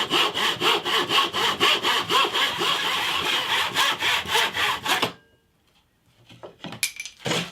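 Hand saw cutting at an angle through wood for a bass guitar body centerpiece, steady rhythmic back-and-forth strokes, close and loud, stopping abruptly, followed by quiet handling and a few light knocks.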